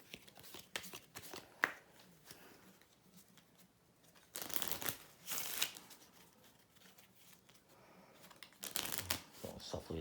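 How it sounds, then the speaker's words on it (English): A deck of cards for the trick-taking board game Inside Job is shuffled up close, soft riffling bursts and rustling swishes in several separate passes with quiet gaps between. "Shuffle these up,"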